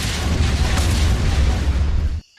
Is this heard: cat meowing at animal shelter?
no